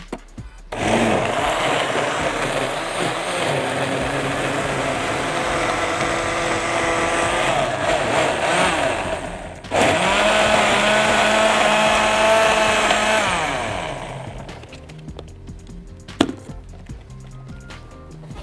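Blender whirring a blueberry and strawberry smoothie with milk, a loud continuous motor roar with a brief dip near the middle before it resumes, then cuts off, leaving quiet clatter.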